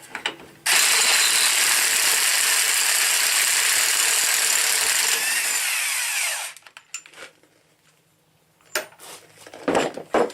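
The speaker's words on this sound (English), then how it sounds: "now what I'm going to do is take this nut off" An impact or ratchet tool spins off the axle nut on a Chevy Blazer during a wheel bearing job, a loud continuous mechanical whir lasting about six seconds, then stopping, followed by scattered clanks and handling noises.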